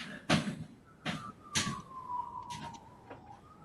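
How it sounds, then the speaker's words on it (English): A faint siren wails with a long, slowly falling tone, broken by several sharp, loud knocks nearby. "Now I hear sirens."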